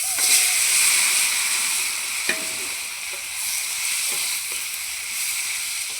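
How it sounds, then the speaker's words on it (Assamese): French beans and potatoes with a little turmeric fry in a pan, giving a steady close sizzle and hiss throughout, with a few faint clicks of a utensil and no talking. "ভাজিছোঁ।"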